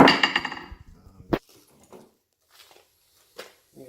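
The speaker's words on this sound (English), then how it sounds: "I'm going to give this a whack." A hammer strikes wood once with a sharp, loud blow partway through, followed by scattered faint knocks and rustles in a quiet workshop.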